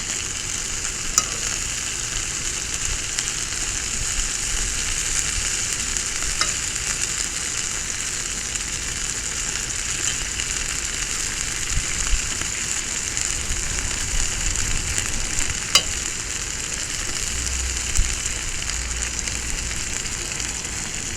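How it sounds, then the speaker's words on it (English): Onions sizzle and crackle steadily on a hot cast iron grill, a constant bright frying hiss with occasional sharper pops, no talking. "Onions frying on the grill."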